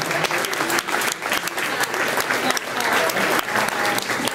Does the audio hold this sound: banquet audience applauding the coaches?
yes